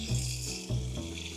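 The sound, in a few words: running warm tap water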